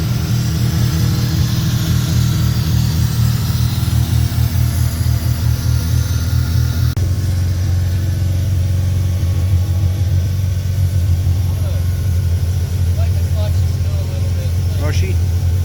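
A 1987 Mazda RX-7 FC Turbo rotary engine idling after being revived, a steady low rumble close by that shifts tone partway through, with a few faint sounds over it.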